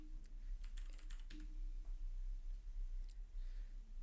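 Keystrokes clatter on a computer keyboard as a Linux terminal command is typed, a quick burst of close, crisp clicks with a short pause before a final few taps over a low steady hum.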